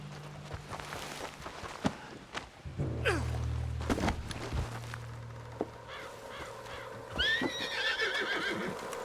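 A horse whinnies loudly amid crows cawing, with occasional hoof clops and a steady low rumble in the background, in the video game Red Dead Redemption 2.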